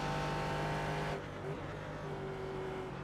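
Race car engines in the racing simulator iRacing: a steady, loud engine drone with a sustained pitch that shifts abruptly partway through, with no speech.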